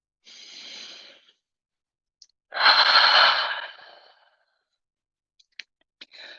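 Deep breaths during a vinyasa yoga session: a soft inhale, then after a pause a louder, longer exhale close to the microphone, with faint clicks at the end.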